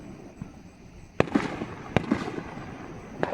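Fireworks burst at an evening show in Centerville, Tennessee, a few sharp bangs roughly a second apart with crackling tails, heard from a distance over a steady background murmur.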